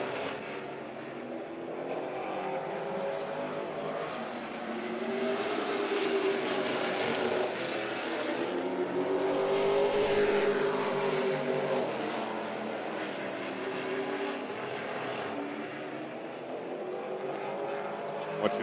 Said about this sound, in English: just 2 cars out on the racetrack.